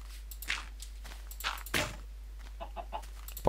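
Minecraft chicken clucking in short scattered bursts, several distinct clucks spread over a few seconds, fairly close, with faint footstep-like taps and no speech.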